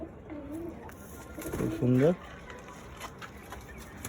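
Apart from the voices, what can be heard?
pigeons cooing in loft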